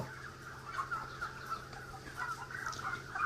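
Broiler chickens cluck softly and continuously at a distance, a quiet murmur of many birds in an enclosed poultry shed holding about 6,000 birds on raised slatted floors.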